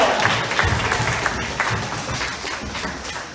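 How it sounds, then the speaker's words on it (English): A crowd applauds at a zoo sea lion show, a dense wash of clapping hands in an open outdoor setting that slowly fades, with a few louder claps standing out near the start. "Give him a big round of applause."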